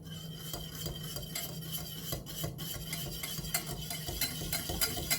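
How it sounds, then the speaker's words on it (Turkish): Rapid, rhythmic scraping and clinking of a whisk beating against a bowl, steady and fairly quiet throughout. "benim mikserim olmadığı için ben elime çırpacağım"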